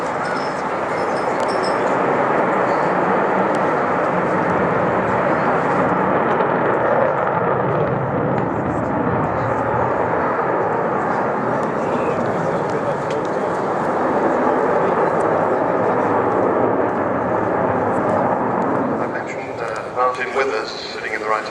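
An Avro Vulcan XH558 bomber flies its display at RIAT 2012, a loud, sustained jet roar rumbling broadly and steadily as the aircraft passes, with an announcer's voice over it.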